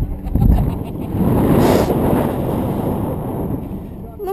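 Wind buffets a GoPro microphone outdoors in cold weather, a loud low rumbling roar that swells and eases without letup.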